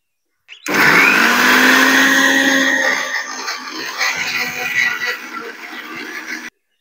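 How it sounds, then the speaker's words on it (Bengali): A kitchen mixer grinder blends neem leaves, aloe vera gel and turmeric into a paste without water, starting suddenly with a loud whine and then grinding on with a rougher, uneven churn before cutting off. "এবারে এটাকে আমি একসঙ্গে মিক্সিতে পেস্ট করে নেব।"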